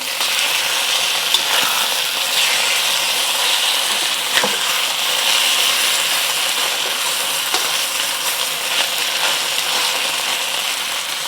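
Pieces of chicken sear in a hot pan in a homestyle soy sauce chicken dish, giving a steady, loud sizzling hiss with occasional small pops and clinks, with no talking.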